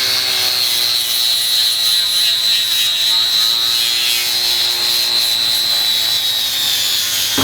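A power tool makes a quick cut into a thick fiberglass layer on a boat hull hauled out at a boatyard in Luperon. It gives a loud, steady, high-pitched grinding whine that runs without a break for the whole stretch, with no talk.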